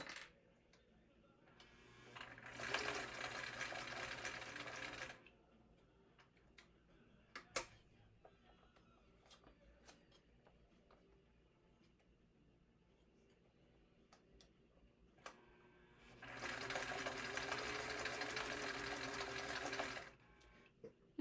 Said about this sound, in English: Making sure your needle is traveling back up before you pivot.